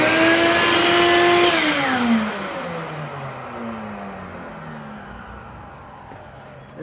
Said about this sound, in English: you're going to hear it when I run the miter saw.